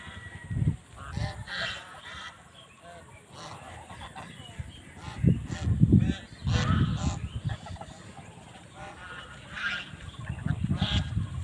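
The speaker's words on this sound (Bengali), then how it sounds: "এই যে হাঁস" Raj hans geese honk in repeated loud, nasal bursts at close range, several birds calling over one another in irregular clusters on a farm.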